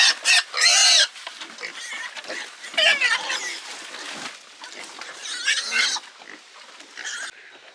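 A pig squeals on a small farm in loud, shrill bursts, sharpest in the first second and again around three and six seconds, with softer grunting and farmyard noise between.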